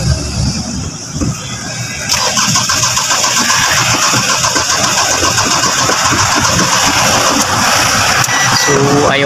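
A Ford Everest diesel engine with a damaged ECU cranks loudly and continuously for several seconds, the starter churning rhythmically without the engine catching.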